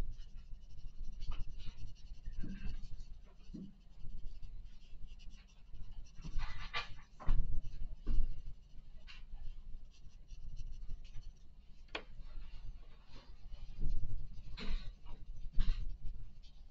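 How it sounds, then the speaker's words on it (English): Soft scratchy strokes of a paper tortillon shading an apple in a still life drawing, rhythmic rubbing bursts of varying strength, close and fairly quiet, with no voices. "See, I'm using the side of my shading tortillon"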